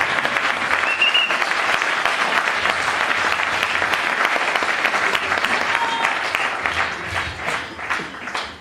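A church congregation at a Sunday service breaks into sustained, dense applause that stays loud and steady throughout, then thins slightly toward the end, with a few voices mixed into the clapping.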